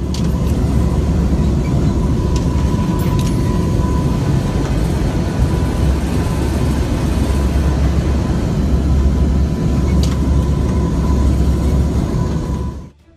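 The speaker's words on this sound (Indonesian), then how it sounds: "sentakan turbulensi mengguncang kabin pesawat turboprop Angkatan Udara raksasa itu" Inside the cabin of a WC-130J Air Force turboprop flying into a hurricane, a loud, steady engine and airframe roar fills the space, with occasional brief rattles and jolts from turbulence; no one speaks.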